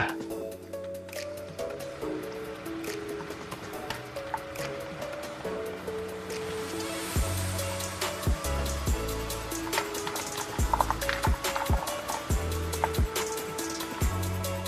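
Differential fluid from a Lexus IS300 draining into a container, a continuous trickling, gurgling pour with wet splashy drips over a low background hum.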